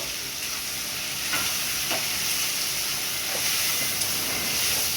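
Tomato and ground cumin paste fry in a pan for an egg and potato curry, giving a steady hissing sizzle with a few soft stirring knocks, close and even throughout with no voices.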